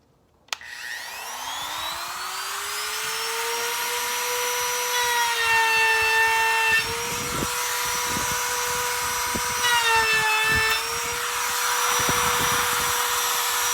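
Router spinning up and cutting a 3-inch hinge recess into the edge of a wooden door, a steady high motor whine that dips in pitch under load with bursts of chattering cutting noise, close and loud.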